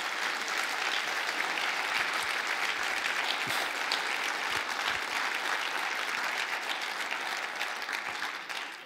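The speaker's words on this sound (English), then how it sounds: "Thanks for the applause." Sustained audience applause at a farewell reception honouring a departing president, dense even clapping from a large room that holds steady for several seconds before easing slightly at the end.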